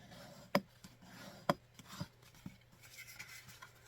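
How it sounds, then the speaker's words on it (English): A bone folder burnishes folded cardstock with faint rubbing strokes, punctuated by a few sharp taps and scrapes at irregular intervals, quiet and close with no talking. "So just give it a really good burnish with your bone folder."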